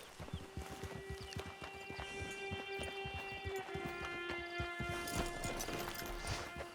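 Horse hooves clip-clop in the Red Dead Online video game: a steady, regular run of close hoofbeats with brief neigh-like tones over a soft game ambience, fairly quiet overall.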